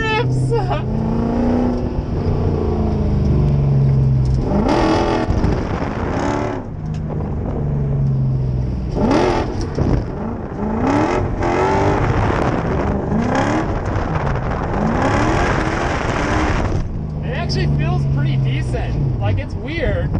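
A V8-swapped Mazda drift truck roaring and revving hard while drifting at a drift event, the engine loud and close with rising and falling surges, excited voices shouting over it.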